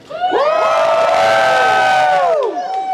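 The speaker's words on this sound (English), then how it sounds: "If this is your first JordanCon, scream." A convention audience at JordanCon screams and cheers together in one loud, sustained burst of many voices that rises sharply, holds, and then fades back toward the end.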